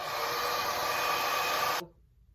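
A hair dryer blows steadily on a deep wave wig, a loud, even rushing whir that holds for nearly two seconds before switching off abruptly into quiet.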